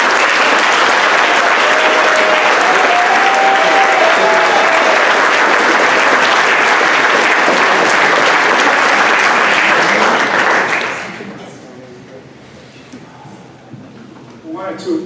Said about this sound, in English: And why not give the candidates another round of applause?